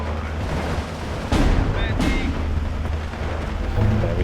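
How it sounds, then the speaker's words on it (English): Artillery fire in the Steel Division 2 video game: two sharp, loud blasts about a second apart over a steady battlefield rumble, with a faint whistle trailing after. "That artillery is brutal."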